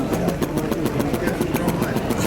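A small model flame licker engine runs at a show, giving a fast, steady rhythmic pulsing chuff that repeats evenly throughout, close and moderately loud.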